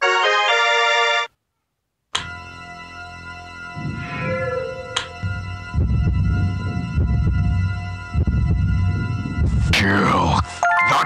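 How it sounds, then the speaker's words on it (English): A brief electronic doorbell chime rings out in the Scary Butcher 3D game, then stops; after a short silence, a voice talks over low, rumbling in-game ambience. "That better be wind ringing my doorbell."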